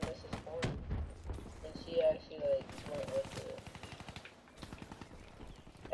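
Rapid automatic gunfire from Black Ops 3 gameplay rattles in quick bursts, fairly quiet and mixed with game sounds, while a player's voice talks over it.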